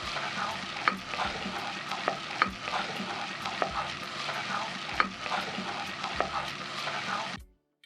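Green and red onions with four crushed garlic cloves fry in hot oil, a steady close sizzle broken by regular clicks and scrapes of a spoon stirring the pan, ending abruptly.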